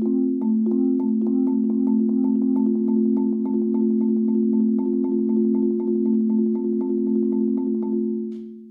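Sustained marimba roll played with three mallets, low bar tones blending into a continuous ringing chord while a rapid triplet-like pulse of mallet strikes ripples through it, close and solo before fading at the end.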